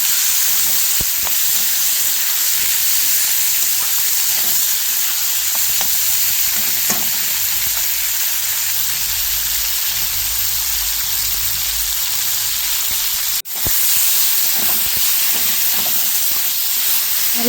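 Aloo poha frying in a pan, with potatoes, chopped tomato and chili cooking in oil: a constant loud sizzle and hiss runs throughout, broken by one sharp click late on.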